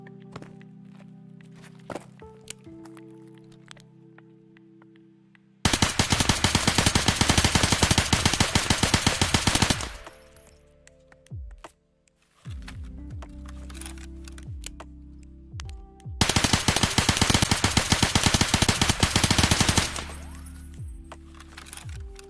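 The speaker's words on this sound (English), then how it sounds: "Tap G36 on full auto." Full-auto bursts from a G36 rifle in the video game Escape From Tarkov: two long, loud sustained volleys of rapid gunfire, each lasting several seconds, separated by quieter stretches of footsteps and gear handling.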